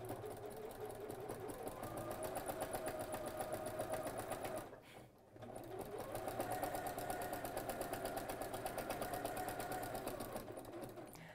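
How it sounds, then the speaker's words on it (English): A sewing machine stitches in a fast, even mechanical rattle, running steadily, pausing briefly midway, then resuming at the same pace. "it's funny using a different sewing machine"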